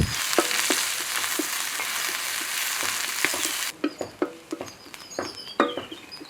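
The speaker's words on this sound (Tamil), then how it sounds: "கடலப்பருப்பு இஞ்சி பச்சை மிளகா கருவேப்பிலை வெங்காயத்தை சேர்த்து வணக்கிக்கலாம்" Chana dal, ginger, green chili, curry leaves and onion frying in a pan for millet kichadi, a steady broadband sizzle that suddenly drops away, followed by quieter scattered crackles and spoon scrapes.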